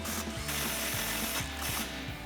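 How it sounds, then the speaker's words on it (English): A ratchet fitted with a 15mm impact socket tightens an exhaust clamp on a 2024-2025 Toyota Tacoma, giving a fast run of clicking pawl strokes in short bursts, close and clear. "tighten this last clamp down here"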